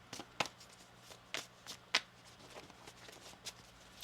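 Quiet riffling and soft card flicks come in short bursts as tarot cards are shuffled, with a few sharper snaps standing out against a faint low hum.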